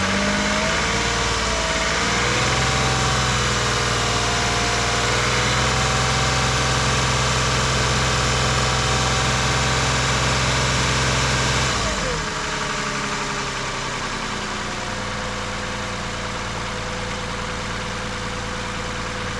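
A car engine on a battery tester's charging check is held at a raised 2,500 RPM, a steady loud mid-pitched drone that holds for about twelve seconds before dropping back to a lower idle.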